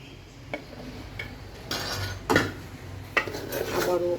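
Vegetables tossed into a pan for vegetable masala fried rice, with a few sharp clinks of a metal spatula against the pan and a low background hum between the scrapes.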